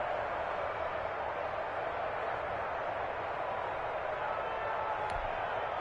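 Video game football crowd roaring and cheering in a steady, dense wash of noise that runs throughout, building as fans get up for a big third-and-short play.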